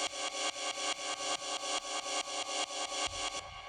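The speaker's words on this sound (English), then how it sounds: "Next up we have our right cymbal" Processed ride cymbal one-shot sample for raw techno, struck in a steady repeating pattern of about fourteen bright, washy hits with a slight swell on each, loud and alone before it cuts off near the end.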